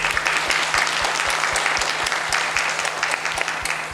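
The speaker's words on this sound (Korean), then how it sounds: "큰 박수로 맞이해 주시면 감사합니다." Audience applause at a National Assembly forum on basic academic skills in the digital era, welcoming a university presenter; steady, dense clapping from a room full of people that fills the whole stretch without a voice.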